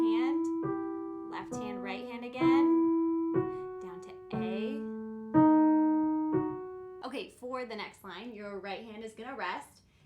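Piano plays the opening of the Moonlight Sonata with both hands, slow sustained low notes and chords ringing in a measured rhythm, followed by a person speaking.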